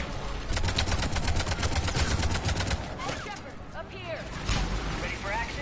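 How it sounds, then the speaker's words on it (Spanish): Rapid bursts of automatic gunfire from a Mass Effect 3 firefight, loud and dense for the first few seconds, then giving way to scattered shots, whooshing effects and voices talking over the combat. "Tío, ¿de dónde me vienen los tiros?"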